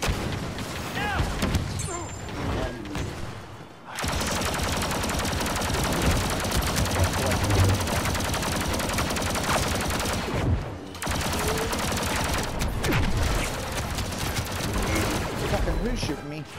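Heavy gunfire in a shooter video game, with dense overlapping bursts of shots and booms running for long stretches, broken by short pauses, mixed with shouted talk.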